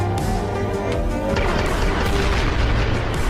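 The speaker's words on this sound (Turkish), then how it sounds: "Abi o patlamaların Timen'e bir zarar vereceğini düşünüyor musun gerçekten ya?" Explosions and crashing booms in a Skibidi Toilet animation, dense and loud, rumbling continuously with layered impacts and no talk.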